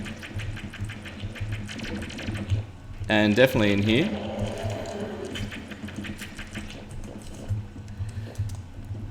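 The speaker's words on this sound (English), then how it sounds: "Alright, I'm going to try and get some water bolt hits in here." Water Bolt magic attacks from a mage in Terraria during the Wall of Flesh boss fight, heard as rapid repeated watery splashing hits that run steadily under a man's speech.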